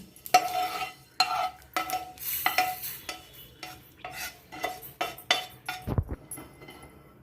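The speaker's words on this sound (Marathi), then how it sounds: "तीळ व खसखस असेच सुके भाजून घ्यायचे आहेत." Sesame and poppy seeds dry roasting in a pan for dink ladoo give a rhythmic series of close scraping stirs and light clinks, separated by short quiet gaps.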